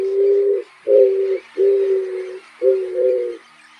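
Eared dove (avoante) cooing in an urban area, four drawn-out, evenly spaced low hooting notes close to the microphone, with faint background birds and no talking.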